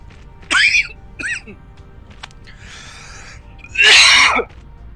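Several close, harsh coughs come in separate bursts, a pair of quick ones and then a longer, louder hacking fit at the end, each standing apart from quiet room noise.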